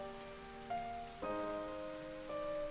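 Rain falling in the video game Ender Lilies, a steady soft wash running under sustained, layered musical tones that shift a few times, with no voices.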